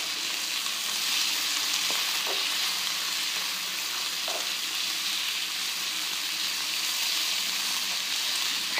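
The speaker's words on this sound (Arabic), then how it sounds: "ونبداو التحريك المستمر حتى يجلينا البصل ديالنا تقريبا" Onions and peppers fry steadily in a pan, with a continuous close sizzle and a few brief stirring scrapes, and no talk.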